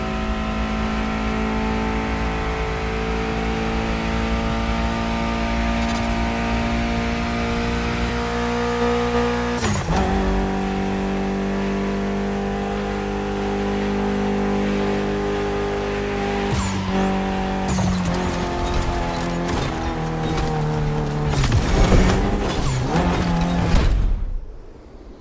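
A car in The Crew Motorfest video game, driven on a Gymkhana Grid course, revs hard through repeated gear changes with rising and falling engine pitch, tires squealing loudly during slides before the sound cuts off abruptly.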